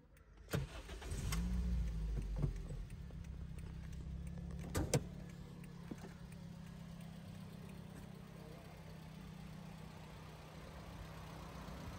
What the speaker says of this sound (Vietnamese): máy nổ thì thầm luôn, êm du luôn